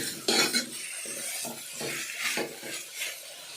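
Chicken being stirred in a pot while making chicken soup, with a series of clinking, scraping spoon strokes against the pot at an irregular rhythm, close by with no talking.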